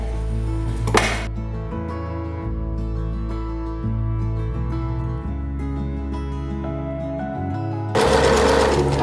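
A sewing machine runs in steady mechanical bursts, its motor whirring at shifting speeds, close by, with a louder burst at the start and again near the end.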